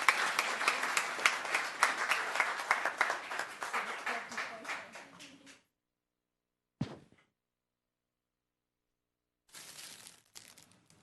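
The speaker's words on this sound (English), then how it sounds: "Round of applause." An audience at a town council meeting claps for several seconds, the applause tapering off into quiet, followed by a single thud and a brief second patter of clapping.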